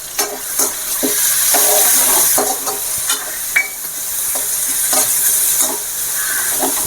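Cumin, fennel seeds and black pepper frying in hot oil for a catfish gravy fry, with a close, loud crackling sizzle and rhythmic scraping taps of a spoon stirring the pan.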